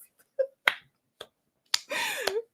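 Several sharp hand claps, isolated and fairly close, spaced irregularly across a couple of seconds, followed by a burst of spoken voice at the end.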